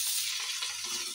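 Coriander leaves are stirred into chicken frying in a pan, giving a steady bright sizzle with soft scraping movement throughout.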